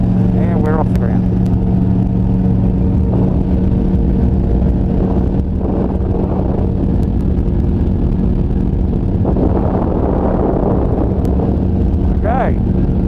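A microlight aircraft's engine drones loudly and continuously as it takes off and climbs, buffeted by heavy wind rumble on the microphone, with a voice speaking over it at times.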